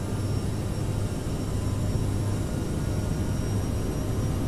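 Jet engines of a CRJ700 regional jet spooling at takeoff power in Microsoft Flight Simulator, a steady loud broadband roar with a low hum, continuous and unbroken throughout.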